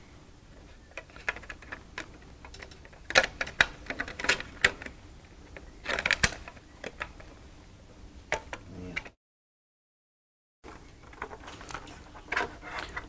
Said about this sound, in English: The cable cover just snaps into place.